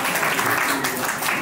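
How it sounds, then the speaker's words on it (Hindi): Audience clapping at a birthday party magic show, a short, loud, continuous burst of many hands. "इनके लिए एक ताली होनी चाहिए।"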